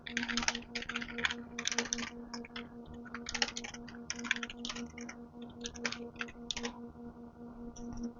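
Fast typing on a computer keyboard while editing a file in the nano text editor on Linux: bursts of close, crisp key clicks in irregular clusters over a steady low hum, with no voices.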